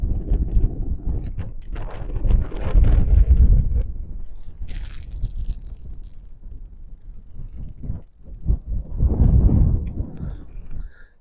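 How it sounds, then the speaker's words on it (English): Gusty wind buffets the microphone on the docks at Barry while someone is fishing, producing a low rumbling roar that swells and fades in long gusts, with a faint hiss and water sloshing beneath. "it's the wind blowing. It's still so gusty."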